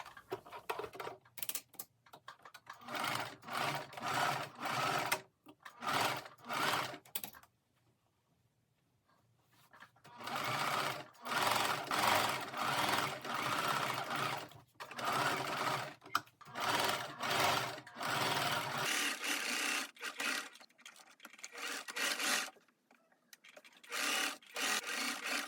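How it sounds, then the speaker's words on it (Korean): Sewing machine stitching pintucks on the lace section of a denim dress, running in several bursts of rapid mechanical stitching separated by short pauses, close and alone with no voices. "레이스 부분의 핀턱도 반을 접어서 핀턱을 만들어서 봉제를 합니다."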